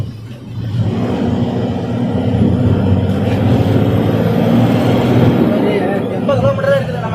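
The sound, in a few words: vehicles moving in traffic after being released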